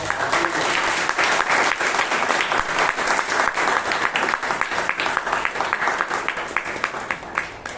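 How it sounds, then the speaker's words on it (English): Audience applause fills a room at a Toastmasters club meeting in Bangalore, a loud, dense burst of many hands clapping that continues for several seconds. "round of applause"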